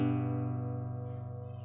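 A guitar sounds a G and a B together as a sustained two-note dyad, a single soft strum ringing and slowly decaying alone.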